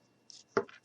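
Scissors cutting a small strip from a piece of black felt make a single soft, brief snip, close and quiet.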